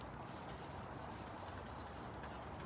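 Primer is block sanded by hand with 320 grit sandpaper, giving a continuous, faint, even rubbing scrape with no speech.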